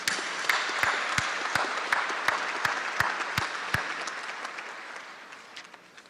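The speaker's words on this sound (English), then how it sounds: "Another round of applause for these outstanding scholars, please." Applause fills the hall at a university summer commencement ceremony, a broad crowd wash punctuated by loud nearby claps in a steady beat that gradually fades.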